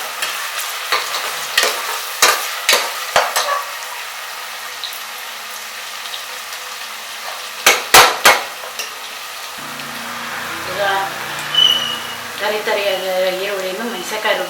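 Onions fry in a pan for a restaurant-style channa masala, under a spatula that scrapes and taps in quick bursts. A hiss runs beneath, and a louder, steadier sizzle follows as more is added, all close.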